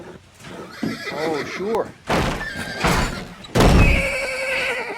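A horse whinnies loudly and repeatedly in a film scene, with a rising neigh near the start and hoof clatter, while people speak over it.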